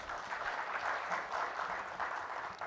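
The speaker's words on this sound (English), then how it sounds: "Can we have a huge round of applause before we comment?" A conference audience at a panel discussion applauds steadily, a dense even wash of many hands clapping at moderate level throughout, with no voices over it.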